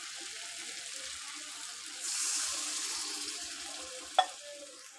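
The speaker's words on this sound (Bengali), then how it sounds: "জল ঢেলে দেবো" Water is poured into vegetarian potato curry frying in a pan, giving a soft, steady sizzle that swells briefly partway through, with one sharp clink near the end and no talking.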